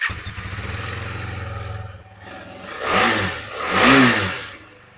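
A used 250 cc motorbike idles with a steady thumping beat in a bike showroom, then its engine is revved twice in loud swelling bursts that fall back to idle.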